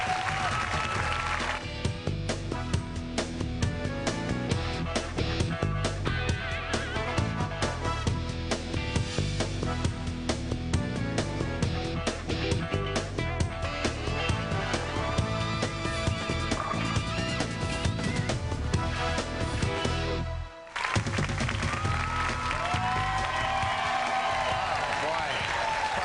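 A studio audience at a late-night political talk show claps and cheers in a loud, sustained wave with music playing underneath and a voice speaking over it, briefly cutting out near the end before resuming.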